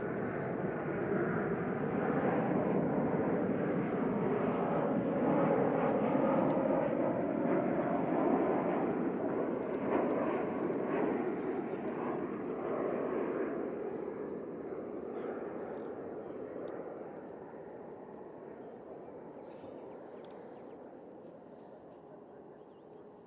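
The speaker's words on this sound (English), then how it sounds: "Ryanair 3469 from Palma de Mallorca here, Max 8200 and HVVQ" A Ryanair Boeing 737 MAX 8200 jet arriving from Palma de Mallorca at Manchester Airport gives off a broad, steady engine roar that swells and then slowly fades over about twenty seconds, heard from a moderate distance at night.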